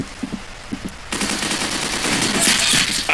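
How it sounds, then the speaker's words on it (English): A burst of rapid gunfire in a video game erupts and continues loudly in a rattling stream, preceded by a few soft taps. "I heard gunshots"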